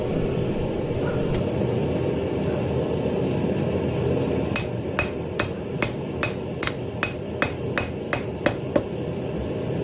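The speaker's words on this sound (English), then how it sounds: "once you get that thing bent down, you can kind of hammer it flat" A hot steel spiral for a candle holder is hammered flat, giving a quick run of about ten sharp metallic strikes in steady rhythm, close and loud over a constant background hum.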